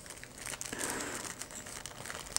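Thin plastic bag crinkling and rustling while a Lioncast LC20 PS4 charging station for two controllers is unpacked, a quiet, close series of irregular crackles with no talking.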